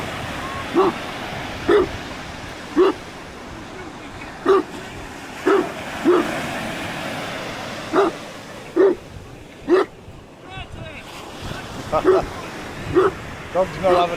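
A dog on a beach barks in a steady series of sharp, evenly spaced barks, about a dozen in all, over a constant wash of surf and wind.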